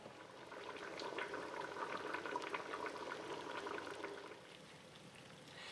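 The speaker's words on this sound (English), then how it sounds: "I'm going to cover that back up and we're going to simmer that for 40 to 50 minutes." Minestrone soup simmers in a covered pot, a soft continuous bubbling that swells slightly and then eases near the end, heard alone.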